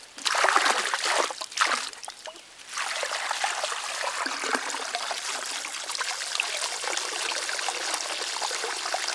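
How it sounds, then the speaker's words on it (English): Water gushes steadily from a Rule 4000 12V bilge pump filling a pond, a close, continuous splashing stream after a few uneven bursts of flow at the start. "show you what kind of flow I'm getting with that Rule 4. It's a Rule 4000 bilge pump."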